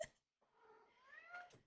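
A pet cat gives one drawn-out, rising meow close by, at low volume, after a soft brief sound and a moment of quiet, with no speech over it.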